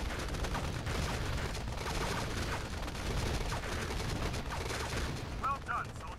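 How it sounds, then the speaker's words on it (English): Dense, continuous bursts of video game gunfire crackle steadily throughout, loud and busy, with a few brief electronic tones near the end. "The gunshots only go wherever I'm aiming."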